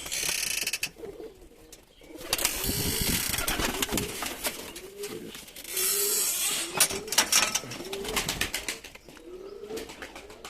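Young perdeli pigeons in flight coo repeatedly while bursts of wing flapping and fluttering rise and fall around them, moderately close and continuous.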